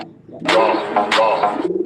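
A Girabaz pigeon coos close by in a short series of soft, throaty calls with a few brief bright noises mixed in.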